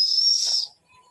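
A pressure cooker whistles on a stove while dal cooks: one sharp, high steam whistle lasting about half a second, then fading into a faint hiss.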